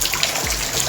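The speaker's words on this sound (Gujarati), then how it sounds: "તમે જોઈ શકો છો, જોઈ લો વરસાદ" Rainwater trickles and drips close by in a continuous watery patter over a brief moment.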